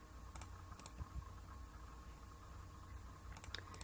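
Keyboard shortcut keypresses and mouse clicks at a computer during 3D modeling in Blender: a few faint, separate clicks and taps spread across a low hum, with no talking.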